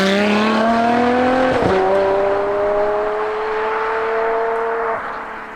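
A Ferrari 599 GTO engine revs hard while driving, rising through the gears with a shrill, harmonic-rich wail, a sharp gear change partway through, then a steady high pitched drone, loud and close.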